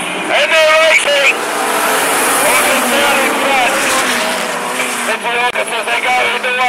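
Outlaw sprint sedans racing at Mac's Speedway, a roar of engines passing on the oval track under a loud announcer's voice and crowd noise, with the engine sound rising and falling as the cars go by.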